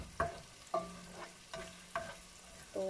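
Pork caldereta cooks in a pan with tomatoes, a low simmering sizzle punctuated by about five distinct scraping stirs of a spoon against the pan, close and quiet, with no talking.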